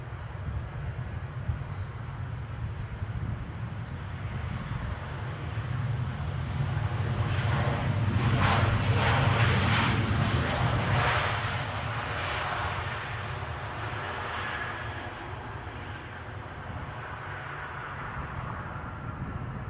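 A British Airways airliner at Edinburgh airport rumbles at a distance, a low engine drone that rises to a peak midway and then fades back down.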